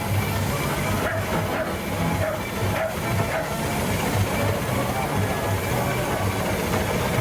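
A 1926 ten-ton steam roller approaching across a steam fair arena on the Isle of Wight, its steady hissing and chuffing rolling on continuously amid busy outdoor crowd noise.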